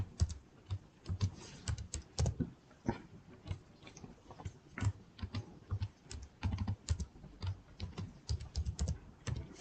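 Someone types a password on a computer keyboard: a close run of irregular, crisp key clicks in quick bursts with short pauses, steady for several seconds, and no talking.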